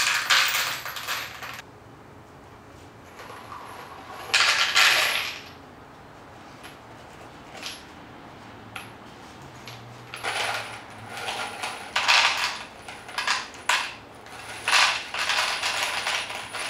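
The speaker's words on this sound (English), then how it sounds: "So nothing left to do but just fill it with nails and screws." Nails and screws poured and rattled into a small fumed oak caddy, several bursts of bright metallic clatter separated by quieter handling, close and fairly loud.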